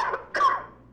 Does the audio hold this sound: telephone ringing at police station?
no